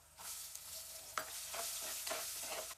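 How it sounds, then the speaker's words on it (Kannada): Onions hit a quiet tempering of roasted peanuts and turmeric for poha, giving a soft sizzle with several scraping stirs of a spoon against the pan. "ಸೊ ಇವಾಗ ಈರುಳ್ಳಿ ಹಾಕ್ಬೇಕು."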